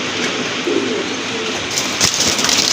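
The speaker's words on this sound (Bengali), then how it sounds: "এই যে দেখেন কবুতর" Pigeons coo near a pigeon market stall, low soft calls sounding close over a faint background hum, with a brief sharper noise near the end.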